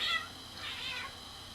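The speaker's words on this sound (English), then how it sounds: "I think my cats are trying to have sex." Pet cats meowing indoors, a faint high cry followed by a longer, wavering yowl, distant and soft against a quiet room.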